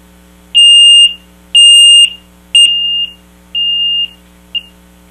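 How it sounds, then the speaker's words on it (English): Electronic beeps from an 8-in-1 programmable digital kitchen timer in short bursts, two long tones then shorter ones at a lower volume, sharp and close with silence between. "To stop the timer from beeping, you press the stop start button once"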